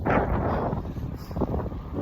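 Strong wind buffeting the microphone while cycling outdoors on a cloudy day, a loud, continuous rumbling roar with gusty swells and no speech.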